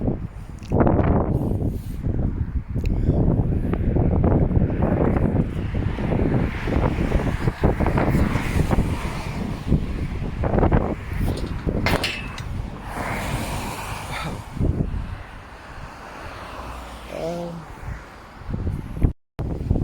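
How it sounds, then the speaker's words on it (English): Strong outdoor wind buffeting the microphone in loud, gusty rumbles, fluctuating continuously and easing slightly toward the end, with a rustling, windswept background. "It's getting very breezy now."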